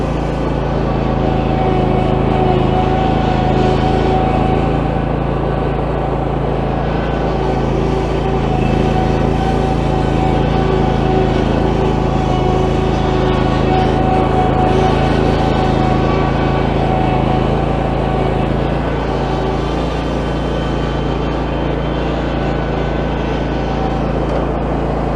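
A zero turn mower reverses up a slope, its engine droning loud and steady at close range with a constant low rumble and no break.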